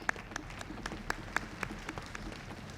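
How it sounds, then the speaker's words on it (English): A quiet, scattered round of clapping comes from an audience at a youth honor orchestra concert. It is faint and sounds distant, with a few sharper individual claps standing out. "Yeah, we can clap."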